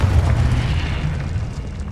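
A Confringo blast-curse explosion spell from the video game Hogwarts Legacy erupts as a loud, deep boom, its heavy low rumble rolling on steadily for the full two seconds with no break.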